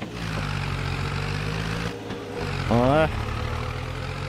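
Tractor engine running steadily in the Farming Simulator 22 video game, a continuous low drone throughout with a brief surge near the end and a short voice sound over it.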